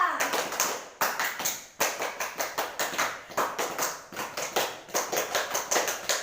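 A class of children performs the rhythmic scout clap, tepuk pramuka, in a classroom: loud, close bursts of many hands striking in quick patterned groups, repeating in several rounds.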